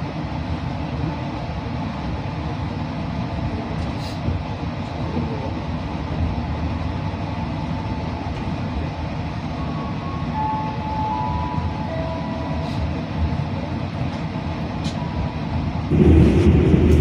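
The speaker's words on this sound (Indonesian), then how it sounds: "KA Progo kembali diberangkatkan dari stasiun Purwokerto Kabupaten Banyumas jam 4:23" The KA Progo economy passenger train rumbles along the rails on its run from Purwokerto station, heard from inside the carriage. A dense, steady roar and rattle continues throughout and swells louder near the end, with no voices.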